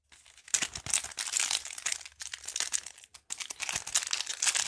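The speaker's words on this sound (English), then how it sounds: "we unwrap all these little packs of 3 cards" Small packs of football trading cards are torn open and unwrapped at close range, a steady run of crinkling foil and plastic wrapper rustles with brief tearing bursts and short pauses.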